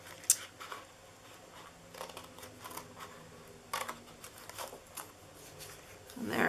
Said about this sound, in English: I like to use my bigger scissors for this because you can go in a couple swoops